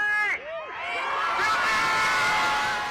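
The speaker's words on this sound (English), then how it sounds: "A crowd of several hundred people that had gathered outside a fortified Hennepin County courthouse erupted in cheers when the verdict was announced" Several hundred people outside a fortified Hennepin County courthouse erupt in loud, sustained cheering and shrill whoops at a guilty murder verdict, a dense continuous roar of voices with high shouts rising above it.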